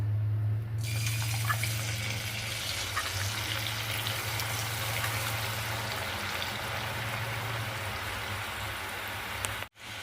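Khara sev dough fries in hot oil, giving a steady, close, dense sizzling hiss that runs unbroken for the whole stretch with no voices.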